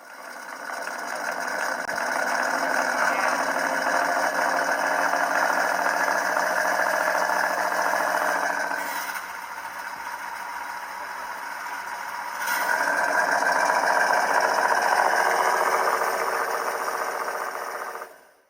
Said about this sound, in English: Let's now listen to a video of the exhaust both with the flap open and with it closed, so you can hear the difference